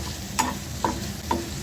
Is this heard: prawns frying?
yes